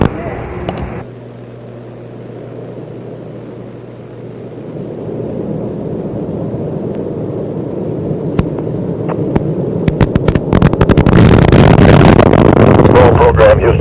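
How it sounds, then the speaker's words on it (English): Space Shuttle Endeavour lifting off on its maiden STS-49 launch: a low hum opens, then a rising, broad rumbling roar builds and crackles louder toward the end, with a voice briefly audible at the start. "Booster ignition and liftoff of the maiden voyage of Endeavour on a satellite rescue"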